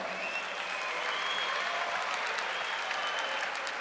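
Crowd at a CFA mixed martial arts event applauds fighter Alexis Vila, a former Cuban wrestler, with sustained, fairly faint clapping spread across a large hall, continuous and even throughout.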